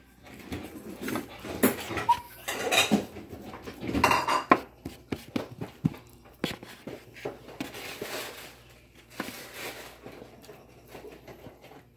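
Cutlery scrapes and clinks against a dish as a hot Thanksgiving dinner is stirred, a busy run of close clatter and taps, loudest in bursts at about two and four seconds, with no talk.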